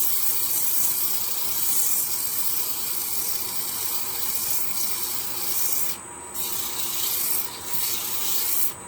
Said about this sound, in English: so hopefully I'm getting it out with sanding. I'm using a wee bit of 80 grit here.